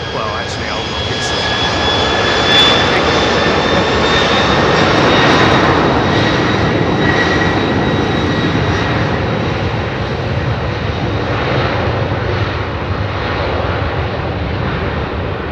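A DHL cargo jet takes off steeply at London Heathrow, its engines roaring loud and near at first, then the jet whine holds steady as it climbs and slowly fades.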